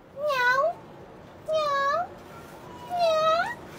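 A person imitates a cat, giving three separate meows evenly spaced over a few seconds, each a clear rising-then-falling mew, fairly close with a faint background hiss.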